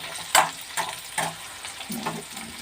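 Onions and okra fry in a pan, a soft background sizzle broken by several scraping stir strokes at roughly half-second intervals.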